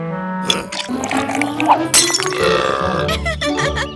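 Cartoon monkey gulping water in a children's animated adventure set in Dholakpur: a busy cluster of gulps, burp-like swallows, splashes and clinks over music and background effects, loud and close.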